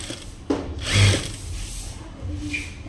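A sewing machine stitches piping onto a blouse in short bursts of mechanical whirring, with a louder run in the middle. It is close and no one speaks.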